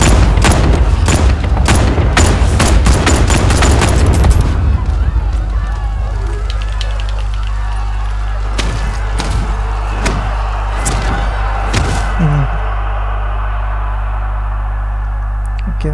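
Rapid gunfire from the Batman Arkham Knight video game crackles densely for the first few seconds, then gives way to sparser shots over a steady low game hum.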